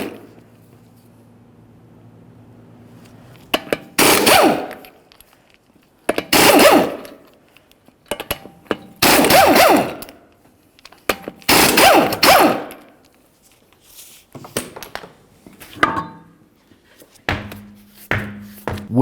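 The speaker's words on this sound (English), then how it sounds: "continue on to your 5 21mm lug nuts. Remove all of those and then the wheel" An impact wrench spins off the five 21mm lug nuts on a 2003-2011 Mercury Grand Marquis wheel, in about five loud, close, rattling bursts separated by short pauses, with a few clunks near the end.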